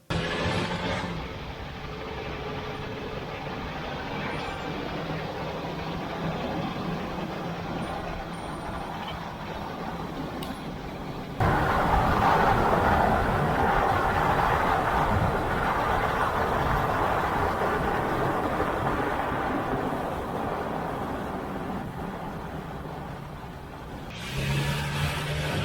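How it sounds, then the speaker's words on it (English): Toyota Tacoma engine idling with a persistent steady mechanical clicking, a continuous close rumble that grows louder about halfway through and drops briefly near the end. "As you can hear from the video, the clicking noise still remains."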